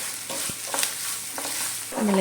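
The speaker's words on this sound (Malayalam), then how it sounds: "അതിനുശേഷം നമുക്ക് ഇത് നന്നായിട്ടൊന്ന് വറുത്തെടുക്കാം" Grated coconut is stirred and sizzling in a hot pan, roasting for sambar, with scraping strokes of a spoon over a soft crackle and a brief clatter near the end.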